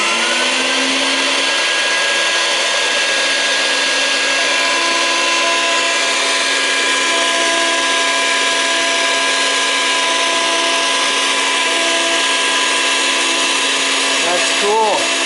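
A CNC router spindle spins at 24,000 RPM, cutting traces into a circuit board at 24 inches per minute, producing a loud, steady high-pitched whine with sustained tones that holds for the whole stretch.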